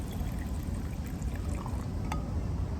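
Nikka whisky poured from a freshly opened bottle into a glass: a brief, steady liquid stream over a dense, even wash of background noise, with no talking.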